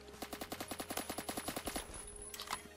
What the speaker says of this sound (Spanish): me están disparando a través de una pared